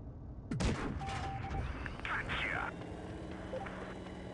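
Tank cannon fire in World of Tanks Blitz: one sharp, loud shot with a booming blast early on, followed by softer in-game rumbles and mechanical effects, with no talk.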